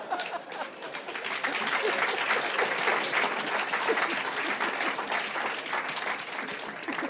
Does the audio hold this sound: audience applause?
yes